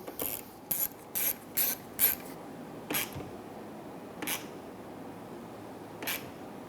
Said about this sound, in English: Be sure you hear that latch actuating.